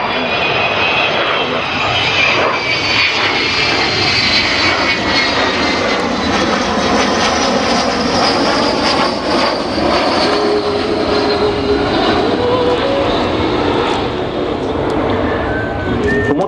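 Avro Vulcan bomber flying at an air display at RAF Waddington, a loud continuous roaring jet rumble filling the whole stretch with a slowly shifting whine, close overhead and unbroken.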